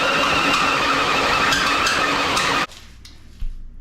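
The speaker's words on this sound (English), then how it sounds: "I use a hole saw blade and I cut that out" A hole saw blade cuts loudly and harshly through metal for a blow-off valve flange on a turbo 4th gen Firebird Formula, running steadily up close and then stopping abruptly, followed by a brief clunk.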